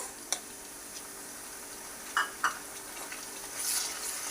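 Onion, tomatoes and green chillies sauté in a pan with a soft, steady sizzle, broken by a few sharp clicks and taps of a utensil and a slight swell of frying near the end.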